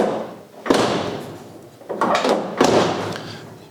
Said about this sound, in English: but when I close the door,